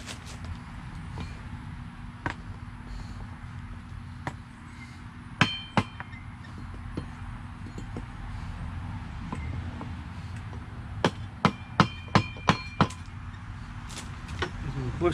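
A hammer knocks the propeller off a 1992 Johnson 25 hp outboard, with scattered sharp metallic strikes and a quick burst of several blows near the end over a low background hum.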